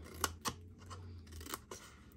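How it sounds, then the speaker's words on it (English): Scissors snipping through paper while trimming a piece for a pumpkin spice treat box craft, several crisp close cuts in quick irregular succession, quiet and alone. "For some reason, I keep cutting this one crooked. Let's get that cut."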